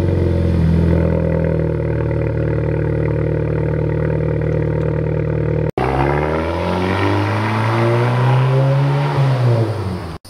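A car engine cold-starts close by and settles into a loud, steady idle; after a brief cut, the engine revs up in a rising and falling sweep with no talk over it.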